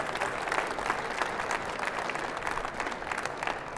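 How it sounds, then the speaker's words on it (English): An audience at a national installer of the year award ceremony keeps clapping continuously, a full, close wash of many hands that holds at a steady level from start to finish. "another round of applause for you guys"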